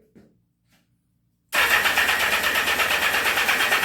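1979 Yamaha XS1100 motorcycle engine, running rich and started with a little choke: after a brief quiet pause with small clicks, it catches abruptly and settles into a loud, close, rough pulsing idle.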